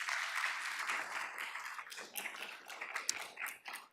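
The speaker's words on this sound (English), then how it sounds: "I want a little shout out, a little round of applause for that" A modest gathering at a college board of trustees meeting gives a round of applause, a thinner spread of individual claps that fades and picks up again with a few distinct sharp claps near the end.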